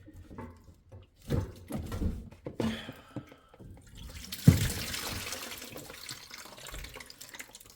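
Trapped water gurgles and splashes out of a disconnected sink drain pipe in a small rental property, starting with scattered knocks and handling noises, then a sudden loud gush that settles into a steady close pour.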